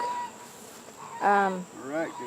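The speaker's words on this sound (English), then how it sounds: "They're very active today and very busy bees." Bees buzz around old field aster flowers outdoors, with two short, close buzzing bursts that rise and fall over a quiet background.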